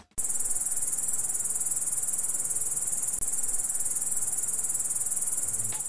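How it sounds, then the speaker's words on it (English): A grasshopper chirps in a loud, steady, rapid trill that fills the whole stretch after a brief quiet start, close to the microphone and alone. "It's a grasshopper."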